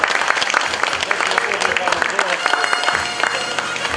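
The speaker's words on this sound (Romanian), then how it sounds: "Aplaudăm mai cu inimă" A crowd claps briskly and unevenly, close by, while voices are heard talking over the applause.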